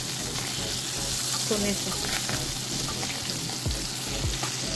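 Butter and olive oil sizzle steadily in a hot frying pan on the stove, a continuous close hiss with faint stirring clinks and a brief voice speaking over it.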